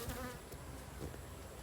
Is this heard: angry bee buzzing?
yes